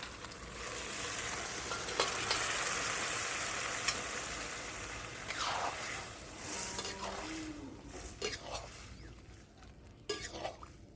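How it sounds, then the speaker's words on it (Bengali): Potatoes and peas added over chicken in a pan for ghugni, a steady close sizzle with occasional utensil clinks and stirring scrapes, fading slightly toward the end. "এবার আমি আলু মটরটাকে দিয়ে দিচ্ছি চিকেনের উপরে।"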